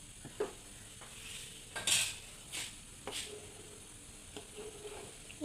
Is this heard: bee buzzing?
no